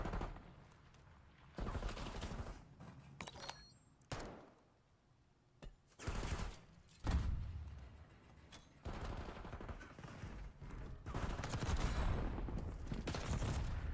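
Rapid bursts of gunfire crackle through a Call of Duty League World Championship match, with automatic rifle volleys cutting in and out in several loud clusters separated by brief quieter gaps.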